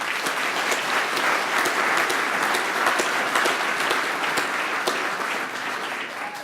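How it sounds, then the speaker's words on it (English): Dense, sustained applause from a forum audience, a continuous wash of many hands clapping at steady volume for several seconds, tapering slightly at the end, with no talk over it. "Give us a round of clap if you are for Palestine."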